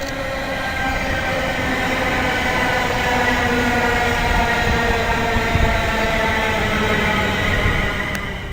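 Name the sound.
train at Birmingham International, Birmingham New Street to London Euston service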